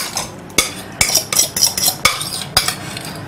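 A spoon scrapes and knocks against a dry saucepan while stirring a mixture in quick irregular strokes, close and crisp, with no talking.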